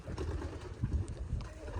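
Pigeons at a new farm coop, with soft, low cooing and faint fluttering close by under a steady background murmur.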